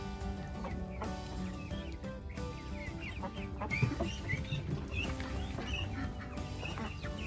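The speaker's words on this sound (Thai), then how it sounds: "เอาแหนแดงที่หามาได้นะคะ เอาไปวางให้เป็ดให้ไก่เขากินนะคะ" Chickens and ducks cluck and murmur steadily while eating red duckweed set out for them, a busy, close farmyard chatter of overlapping fowl calls with no speech.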